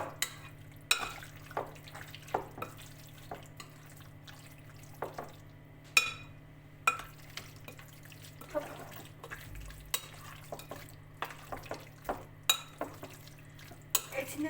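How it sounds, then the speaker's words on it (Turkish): Chopped chicken is stirred with sauce in a bowl for homemade mini chicken döner, giving wet squelching and irregular clinks of a spoon against the bowl, close and intermittent. "Sos her tarafına iyice gelecek şekilde şöyle karıştırıyorum."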